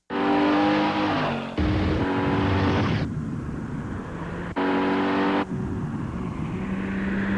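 A 2004 Cadillac SRX luxury SUV in a TV commercial gives a loud, close engine roar with revving surges and brief tire noise, cut into abrupt segments separated by short quieter gaps.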